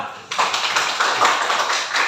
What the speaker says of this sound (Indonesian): Tepuk tangan untuk Alvira